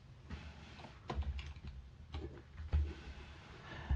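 Quiet typing on a computer keyboard: irregular clusters of soft key clicks with brief pauses between bursts, close and faint, with no talking.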